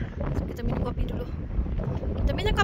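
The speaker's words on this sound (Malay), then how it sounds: "Tapi angin kuat." Strong wind gusts across a microphone on a mountain road near Al Baha, a dense continuous rumble and roar with people talking faintly underneath.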